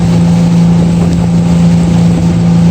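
Honda 225 hp outboard motor driving a fishing boat at Mokdo port in Goheung, a loud steady engine drone with a strong constant hum and rushing wind and water noise, no talking.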